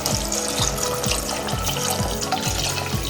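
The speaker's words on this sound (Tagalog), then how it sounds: "lalagyan na natin ng tubig" A glass of water poured into a pan of spicy chicken adobo with liver, heart and gizzard, a loud continuous splashing and gurgling pour with rhythmic glugs.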